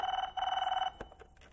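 A telephone bell rings in two long pulsing bursts, a short gap between them, with a faint clatter as the ringing breaks off, in an indoor scene.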